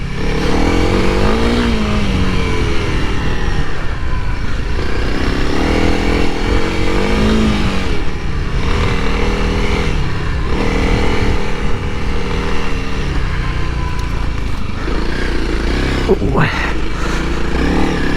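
A Honda CRF300L dirt bike ridden off-road, bought used with 5,000 miles, its engine revving up and down in repeated bursts as the throttle opens and closes, loud and close, with wind noise and a voice talking over it.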